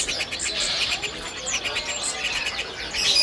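Songbirds at a bird market kiosk, including cucak ijo and kutilang, chirp and trill continuously, bright overlapping calls close by amid faint background bustle.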